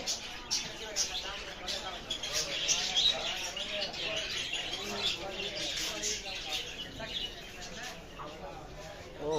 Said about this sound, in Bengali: এখানে পাখি বিক্রি হয়